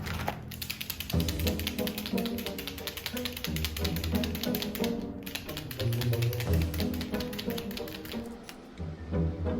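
A window marker is written across a chalkboard sandwich-board sign, giving a rapid, continuous tapping and scratching of the tip against the surface, close and fairly steady, with brief pauses between letters.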